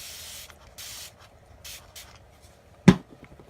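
A hand spray bottle misting water onto dry acrylic paint on a palette, several short soft hissing bursts followed by one sharp close knock or click.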